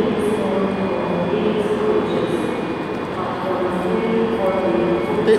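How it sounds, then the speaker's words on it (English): ScotRail train, unit 385039, pulling into terminating platform 5 at Glasgow Queen Street behind a class 170, giving a steady mid-level rumble of wheels and motors under station ambience. "coming in on platform 5, behind the 170, is a terminating ScotRail service"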